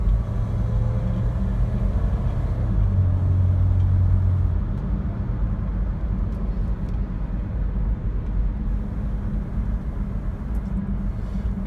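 Inside a Toyota 4Runner under moderate acceleration, a steady low engine drone and road rumble fill the cabin, with a rising tone early on, even and continuous.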